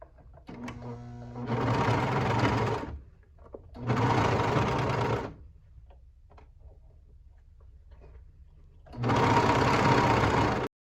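Sewing machine stitching fabric for ruffle shorties, running in three close, steady bursts of a couple of seconds each with quiet pauses and small clicks between them.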